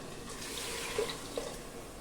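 Water is poured into a pot of green moong dal khichdi as a soft, short, fairly faint pouring rush with a couple of small splashes and no talk.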